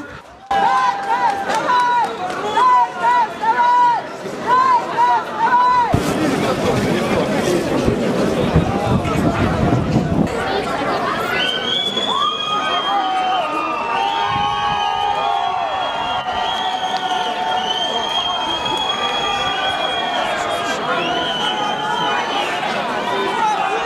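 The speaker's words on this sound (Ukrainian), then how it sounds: "мітингувальники вигукували Фашизм не пройде і Харків вставай" Protesters at a picket in Kharkiv shouting slogans together: rhythmic group chants give way to a dense, loud crowd roar with cheering and overlapping voices that continue steadily throughout.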